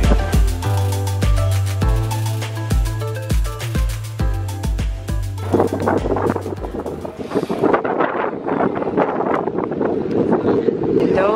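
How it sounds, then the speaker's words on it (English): Strong wind in touristy San Francisco blasts straight into the microphone, a harsh roaring rumble that swells over a tonal musical passage early on and then dominates, loud and gusty, with a voice partly heard. "It's so freaking windy here."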